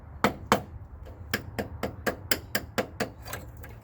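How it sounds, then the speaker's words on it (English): A flat screwdriver is hammered against metal tabs on a Jeep YJ frame, giving about a dozen sharp, close metallic strikes in a steady, uneven rhythm. "you get yourself a flat screwdriver and hammer them."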